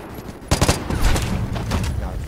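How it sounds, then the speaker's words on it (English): Gunfire is exchanged in the online shooter game Vigor, with a burst of loud, rapid close shots followed by continued crackling fire, some of it more distant, with talk mixed in. "We're trading shots"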